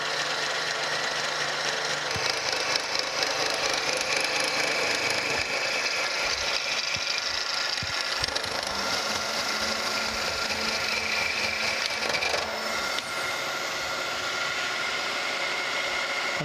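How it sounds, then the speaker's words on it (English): A metal planer making a light skim pass while restoring a clapper box cross slide gib, producing a steady, loud machine drone with grinding cutting noise and a slight change near the end, with no talk. "we'll take a skim pass on there."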